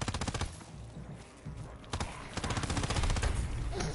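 Rapid bursts of SMG fire from Call of Duty: WWII rattle in dense, fast repeated volleys, loud and close, with brief pauses and voices underneath.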